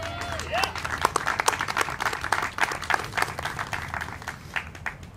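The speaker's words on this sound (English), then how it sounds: "I always appreciate when that becomes an applause line." Applause rises from an outdoor audience at a bridge dedication ceremony, dense overlapping claps of a moderate crowd heard at medium distance, gradually thinning toward the end.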